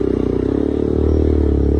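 A motorcycle straining up a steep hill on a rough track, its engine a loud, close, pulsing drone that holds steady and swells slightly toward the end.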